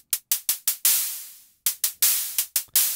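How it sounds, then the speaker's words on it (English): Synthesized hi-hat built in Max, alternating short closed ticks and longer open hits with a gradual decay; bright, noisy, close and loud in an irregular rhythm, no voices. "We have a nice hi-hat sound with decay"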